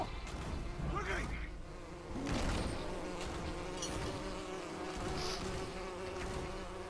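A bee buzzes in the LEGO The Hobbit video game, a continuous insect drone that swells and fades slightly over several seconds amid busy game ambience.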